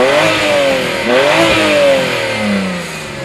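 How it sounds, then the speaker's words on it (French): BMW 335i E91 engine revving while stationary, loud and close, rising and falling through several throttle blips with a smooth mechanical tone. "je vais écouter le son moteur"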